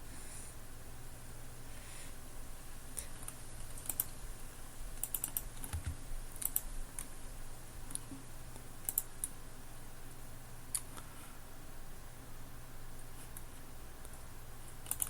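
Someone types on a computer keyboard while writing a coding test case. Quiet, irregular key clicks patter on for about fifteen seconds, with occasional sharper taps and no speech.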